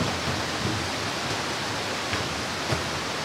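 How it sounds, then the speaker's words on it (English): Dudhsagar Waterfall in Goa, heard from close range in a forest setting: a steady, dense, full-band roar of falling water without pause. "we are just going inside further to check the waterfall from very close"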